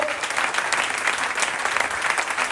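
A congregation claps continuously at a temple festival celebration in Vadodara, with thick, even applause that stays loud and unbroken.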